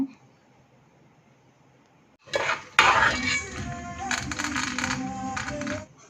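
A metal cooking pot clatters onto a stove burner for popcorn, a sudden loud clank after quiet, followed by ongoing rattling and scraping of pots and utensils up close.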